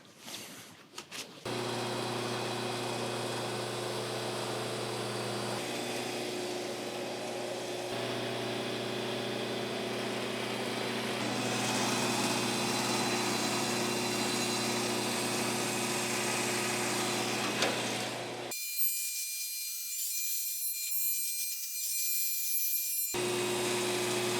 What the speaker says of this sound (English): I'm gonna try the planer.